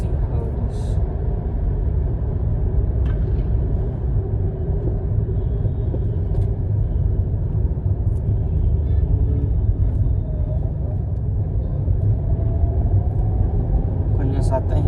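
Inside a car cruising in third gear at around 50 km/h after rat damage, a loud, constant low road and engine rumble runs throughout, with someone talking over it.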